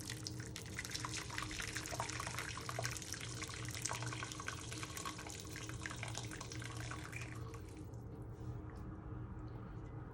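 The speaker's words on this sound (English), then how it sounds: "You have boiled some water in a kettle. You're going to pour some water in." Boiled water from a kettle is poured into a pan holding gammon, a continuous splashing, gurgling stream up close that thins out near the end.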